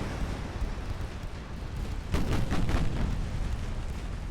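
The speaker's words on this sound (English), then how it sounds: "Goes our last torpedo from this ship." A warship fires a torpedo in Ultimate Admiral Dreadnoughts, a naval battle game. A sudden thudding launch burst stands out over a constant low rumble of engine and sea, then slowly fades.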